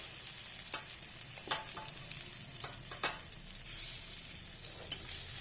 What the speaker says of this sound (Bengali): এই তেলে দিয়ে দেবো রসুন আর শুকনো লঙ্কা